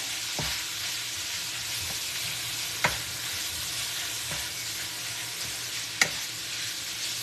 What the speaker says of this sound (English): We're going to make our pico while our ground beef is cooking